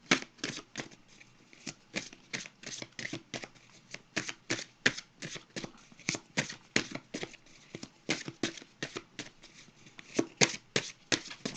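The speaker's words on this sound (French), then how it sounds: "Je vais piger une carte pour terminer." Tarot cards are shuffled and drawn in a close, crisp flurry of riffling snaps and slaps, one rapid burst after another over several seconds with no talking.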